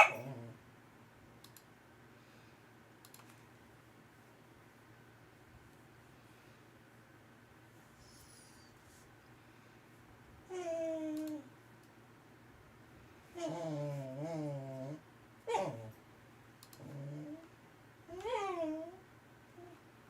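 Oreo the dog barks and yelps outdoors in a few scattered bursts with long quiet gaps between them, faint and somewhat distant over a low background hum and occasional clicks.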